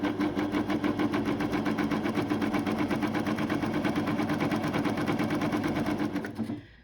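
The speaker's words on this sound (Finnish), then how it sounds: "nyt mä näytän, miten tällä Pfaffin Admire ER7000 koneella peitetikin ompelu onnistuu kätevästi" Pfaff Admire ER7000 coverstitch sewing machine running at steady speed, a loud close rapid mechanical needle rhythm continuing for several seconds before stopping abruptly at the end.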